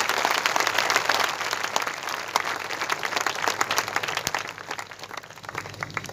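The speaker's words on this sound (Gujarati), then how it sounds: "come give a big hand for the lord" A church congregation claps loudly and steadily for the Lord during a worship service, a dense continuous wash of hands that fills the room and tapers slightly toward the end, with no voices over it.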